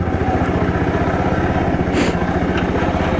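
A motorcycle idles close by in a steady, loud, even chug while being parked near the Aadi Badri temple in Chamoli, Uttarakhand, with faint background sounds over it.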